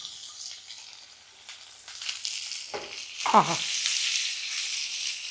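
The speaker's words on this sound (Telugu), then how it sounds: "కొంచెం వేగుతున్నప్పుడు దీంట్లో పచ్చిమిరపకాయలు, అలాగే నేతి బీరకాయ ముక్కలు." Green chilies and ridge gourd pieces fry with garlic in a pan, making a soft sizzle that grows gradually louder, broken by a brief squeaky scrape partway through.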